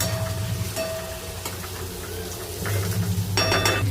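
Onion dropped into hot oil in a pan after garlic has browned for a spicy onion chutney, giving a steady broadband sizzle with a few clinks and scrapes of utensils, swelling louder near the end.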